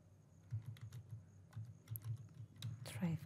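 Typing on a computer keyboard in short irregular bursts of soft clicks, close and fairly quiet, with a few sharper key taps near the end.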